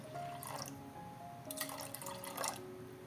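Water splashes and pours into a cooking pot for ginataang halo-halo in a few short bursts, close by, with quiet drips and a faint background hum.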